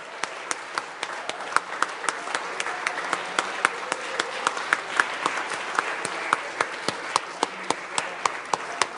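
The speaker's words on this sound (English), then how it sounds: "So I'm going to ask for a round of applause." An auditorium audience applauds steadily and fairly loudly throughout, dense clapping with sharper individual claps standing out and no pauses.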